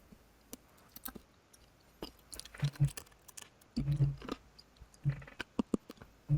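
Crunchy chewing and biting on a very hard snack, close to the mouth, with irregular sharp crackles and soft clicks scattered across a few seconds and no talking.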